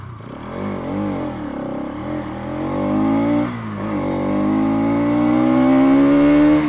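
Bajaj Pulsar NS200 motorcycle in a 0 to 70 acceleration test carrying two riders, its engine revving up loudly through rising pitch sweeps with a short dip at a gear change, close and continuous.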